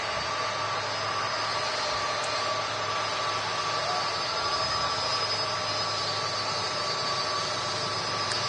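A Turkish Airlines Airbus A330 jet at Manchester Airport produces a continuous, broad engine roar that holds steady at moderate distance without letup for the whole stretch.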